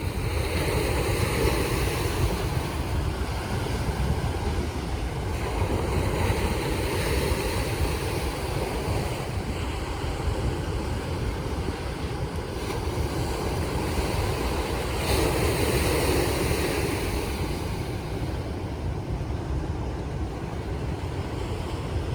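Waves and current rush continuously at a river mouth, a loud, steady roar of churning water with gusts of wind noise on the microphone and no voices.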